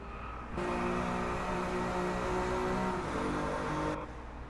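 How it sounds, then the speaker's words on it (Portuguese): A BMW M4 with a 3-litre 24-valve biturbo engine in the Drive Club racing game revs in a loud, steady drone that holds for about three and a half seconds, with no talking. "esse cilindro biturbo aqui ronca melhor que o Gran Turismo"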